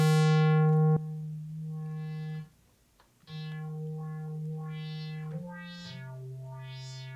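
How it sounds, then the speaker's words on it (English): Synthesizer note run through a filter with its resonance raised at the cutoff, producing whistling, vowel-like sweeps that rise and fall over a steady low tone. Several sweeps play alone with a short pause midway. "if you raise the resonance, which adds a little peak right at the cutoff, you can get weird sounds like this"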